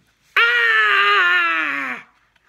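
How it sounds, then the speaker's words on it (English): One sustained, high-pitched scream from a woman in a bathtub, about 1.7 seconds long, loud and close, rising abruptly and cutting off cleanly, with no talk around it. "this was followed shortly by a woman's scream"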